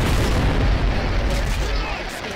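A grenade launcher explosion in the first-person shooter Metro Conflict: The Origin, a loud, deep, rumbling blast that booms up close and then rolls off over about two seconds, heard on its own.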